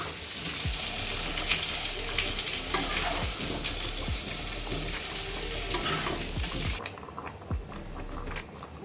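Mutton and potato pieces sizzle loudly in a pan while a spoon scrapes and stirs them in repeated strokes, the frying easing off near the end.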